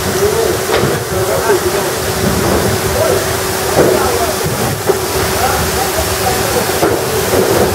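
Steady broadband rush of water current flowing through a banana-growing plot in Zambia, continuous and fairly loud throughout with no clear speech over it.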